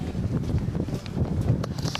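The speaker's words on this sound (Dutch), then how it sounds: "Het waait hier nogal" Strong gusty wind buffeting the microphone atop a sea dike, a continuous rough low roar with uneven surges throughout.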